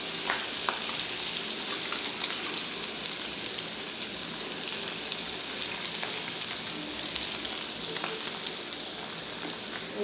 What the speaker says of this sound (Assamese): এয়া সুন্দৰকৈ আচলতে মাছখিনি ভজা হৈছে